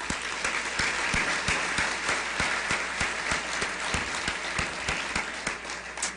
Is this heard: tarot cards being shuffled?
no